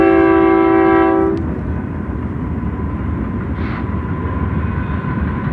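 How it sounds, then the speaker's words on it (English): A train's horn blasts loud and sustained for about a second in the desert, then cuts off, leaving the steady rumble of the rail cars rolling past. "see that damn horn is blowing just when I'm trying to talk and make a point"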